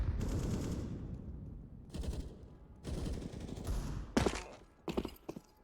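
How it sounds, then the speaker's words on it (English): Desert Eagle pistol shots fire in Counter-Strike on the Train map, bursts of repeated gunfire in clusters with short gaps, mixed with other game sounds. "Spamming away with a Deagle"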